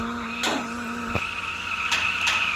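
Tire screech of a car drifting through a corner in the video game Reel Drive, a steady squealing whine with a couple of sharp thuds, close and moderately loud, no talking.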